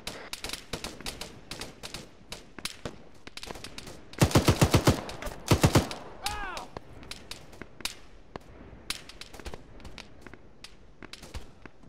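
Cover fire in an Arma 3 infantry firefight: scattered sharp rifle cracks throughout, with a loud, fast automatic burst in the middle and more distant single shots before and after.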